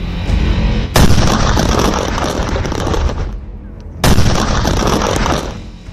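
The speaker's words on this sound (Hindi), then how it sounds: "ये मध्य प्रदेश के दमोह से आई तस्वीरें हैं, जहां पर विस्फोटकों को नष्ट किया जा रहा है।" Seized illegal firecrackers are blown up in Damoh, Madhya Pradesh, with two loud, sharp blasts a few seconds apart, each followed by a long rumbling, crackling roar that slowly fades.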